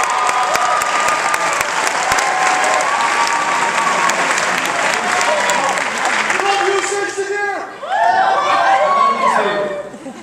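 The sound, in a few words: audience applause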